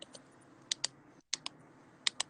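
Keys click faintly on a laptop keyboard, sparse taps in small pairs with a brief pause, close by in a quiet room.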